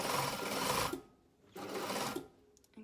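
A domestic sewing machine stitches a trouser crotch seam in two close, steady whirring runs separated by a short pause, ending with a few soft clicks.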